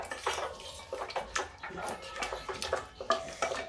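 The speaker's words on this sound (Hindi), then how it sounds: "अब इसको हम तुरंत चलाएंगे, नहीं तो हमारी आलू जो है फट जाएगी।" Potato curry being stirred in a pan over low gas, with a metal spoon scraping and clinking against the pan in irregular bursts, close and fairly loud, without talk.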